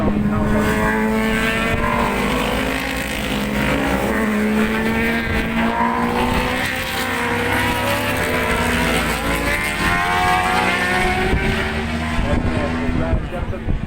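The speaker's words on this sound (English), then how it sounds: "So most of these bikes are 1000cc motorcycles." Superbikes of 1000cc racing at the Kirkistown circuit produce a continuous, loud engine roar with rising and falling high-revving tones as machines pass, while a commentator speaks over it throughout.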